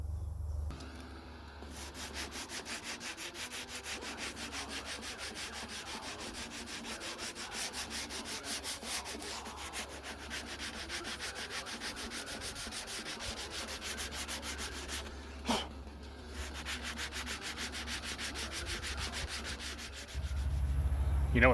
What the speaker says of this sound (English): Sanding. Sanding sucks.